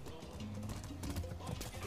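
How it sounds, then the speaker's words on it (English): A horse in the open-world game Far Cry 6, hooves clip-clopping steadily with a brief whinny, heard up close over game ambience with some talk mixed in. "That's a horse."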